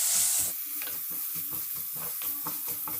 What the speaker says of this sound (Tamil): பூண்டும் வெங்காயம், சின்ன வெங்காயம் வதங்கிடுச்சு.